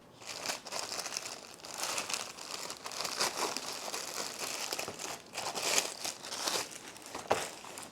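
Plastic bag crinkles and rustles as a MAXPEDITION Beefy Pocket Organizer is unwrapped from it, close and fairly quiet, in irregular bursts of crumpling and crackling.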